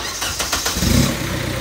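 A car fitted with a second-hand engine cranks in a few quick rhythmic pulses, then catches and settles into a close, loud idle rumble after earlier failed starts.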